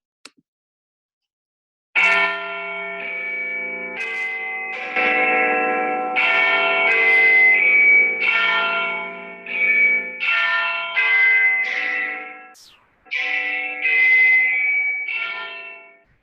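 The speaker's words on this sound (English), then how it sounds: "a little clip of what it sounds like when you hear the bell ring" A large tin and copper bell rings in a long series of resonant, sustained strikes, each tone ringing out and overlapping the next, loud and close with no talking.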